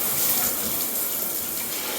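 Shower water runs steadily while the back end of a Onewheel electric board is rinsed after Burning Man, a continuous close hiss of spray with no talking.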